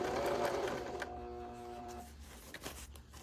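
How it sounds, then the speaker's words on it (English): A sewing machine stitches fabric along a curve, a close steady mechanical whir with a tonal hum that runs for about a second and then stops, followed by quieter handling noise. "So I'm sewing and I'm moving this fabric out of the way."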